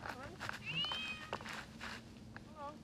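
A kitten meows repeatedly and insistently during a rescue, with high rising cries that are close and clear, mixed with handling noises and people talking.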